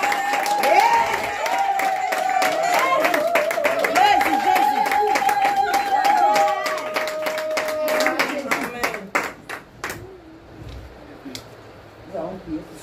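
Church congregation clapping in sustained applause for the Lord, dense rhythmic claps with a held organ or keyboard note and voices underneath, thinning to scattered claps near the end.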